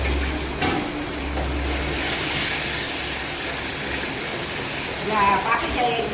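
Garlic and tomato hit hot oil in a home tempering, giving a steady loud sizzle and hiss that runs throughout, with a few faint clinks near the end.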